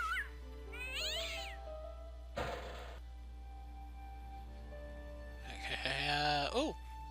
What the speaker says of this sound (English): Aw, cat.